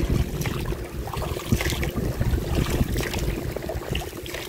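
A motor boat runs steadily across the water, its engine drone mixed with splashing and rushing water against the hull, loud and continuous throughout.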